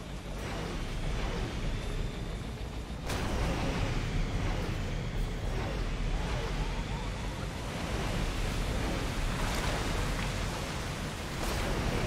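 A waterfall rushes in the video game Mass Effect 2, a dense, steady roar of water that holds constant and close throughout.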